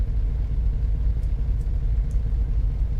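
A Scania V8 truck engine idles in Euro Truck Simulator 2, a steady, deep rumble holding constant, close and loud with no talk over it.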